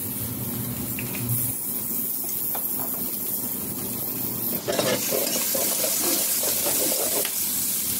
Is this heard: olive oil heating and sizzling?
yes